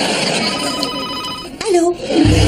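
A telephone bell rings with a steady, bright trill, and voices talk over it near the end.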